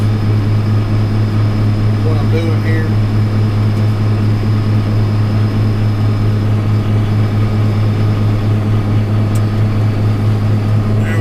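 A large tractor-driven straw blower running, a loud continuous low engine drone with a steady mechanical hum and whooshing air, constant throughout, with someone speaking briefly over it.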